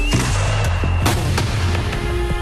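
Fireworks test-fired at a pyrotechnics company firing range crack and thump in a quick irregular series of sharp reports over a low, steady droning hum.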